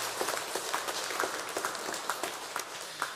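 A church congregation applauds during a Sunday service, a dense, fairly distant wash of many hands clapping steadily throughout.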